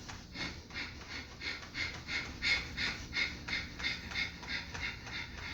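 Rapid, rhythmic breath-of-fire yoga breathing during a Kundalini kriya for the sacral chakra, steady sharp pumping exhales repeating about three times per second throughout, close and fairly loud with no talking.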